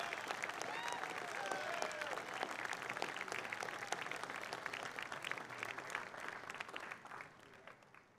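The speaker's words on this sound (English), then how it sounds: "Please join me in giving them a round of applause." Sustained applause from a large crowd at a university undergraduate commencement ceremony, dense steady clapping heard from a distance that gradually fades out near the end.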